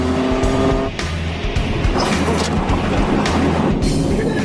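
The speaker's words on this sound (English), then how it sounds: "NSX, they're zooming." An Acura NSX speeds along an open road, its engine roaring loud and close. The pitch rises and falls in quick surges as it zooms by, with a rushing, whooshing tail.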